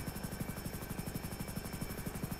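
A helicopter rotor thumps in a steady rapid beat during a police aerial pursuit, a muffled, moderately quiet chop under a constant droning hum.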